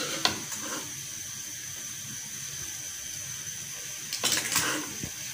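Cooked okra and onion masala curry is dished out of the pan, with faint scraping and a couple of utensil clinks against the pot over a steady background hiss.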